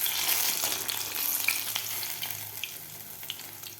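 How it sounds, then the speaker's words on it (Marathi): Paneer pakoras fry in hot oil with a close, steady, crackling sizzle that fades slightly toward the end. "व्यवस्थित आपल्याला हे पकोडे तळून घ्यायचे आहेत."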